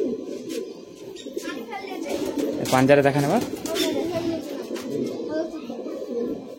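Madrasi high flying pigeons in a loft at Bagnan, Howrah, coo in a low, throaty rumble that swells in the middle, while someone talks over them close by.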